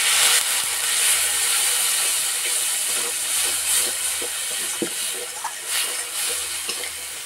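Water poured into a sizzling pan of spice paste with chili powder and a little sugar for an omelette curry sets off a steady, loud broadband hiss with faint scraping underneath, and no voices.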